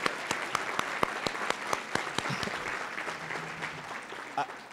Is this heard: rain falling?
no